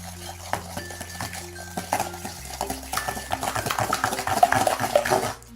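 A spoon stirs an egg into cake batter in a bowl, giving steady scraping and clinking against the bowl's sides that grows busier and louder toward the end, close by and with no talk.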